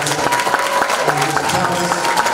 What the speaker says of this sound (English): One more applause.